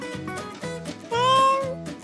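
A cat meows several times in short, close, tonal calls, the last one longer and louder with a rising pitch, with no talking over it.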